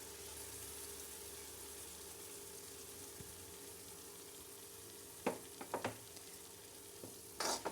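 Tomatoes frying in a pan while being cooked down, a faint steady sizzle running throughout, with a few brief clattering stirs near the end; quiet and without talking.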